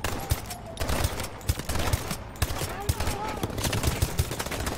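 Call of Duty Advanced Warfare gunfire rattles in repeated sharp bursts of shots, steady and fairly loud across the moment amid game noise, with someone talking briefly over it.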